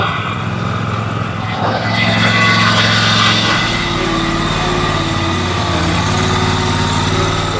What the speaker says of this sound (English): Them idler pulley bearings are hollered louder than a hillbilly at a family reunion